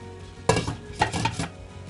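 A metal lid clanks onto a pan of simmering tomato purée with herbs, giving a few sharp close clinks and rattles over about two seconds.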